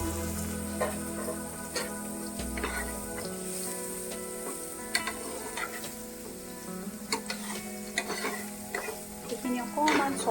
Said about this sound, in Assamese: গোল্ডেন ব্ৰাউন হোৱালৈকে অকণমান ছটে কৰিম।